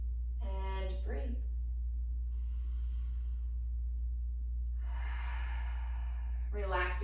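Slow, deep breaths during a floor yoga session: two long, soft airy inhale-exhale sounds, close and gentle over a steady low hum, with a voice speaking briefly at the start and end.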